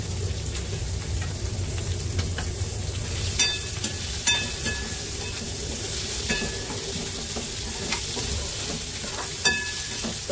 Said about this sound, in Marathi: तर मस्त ना कांदा असा शिजून घेऊया आपण